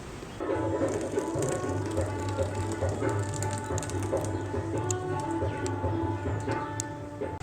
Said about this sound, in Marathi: अशाच पद्धतीने आपण हे पुढचं सगळं वाटून घेऊया